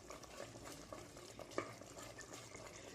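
Mutton and onion, cooked soft, being stirred in a raw mango gravy: a steady close wet churning and scraping with soft sizzling underneath and a few sharper utensil knocks, no voices.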